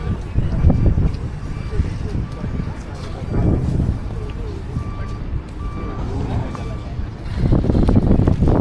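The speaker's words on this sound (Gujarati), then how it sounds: "બહુ જ પવન ચાલી રહ્યો છે" Strong wind on the road to Kutch, Gujarat, buffets the microphone with a low, rumbling roar that rises and falls, while people talk nearby and a faint engine hums in the background.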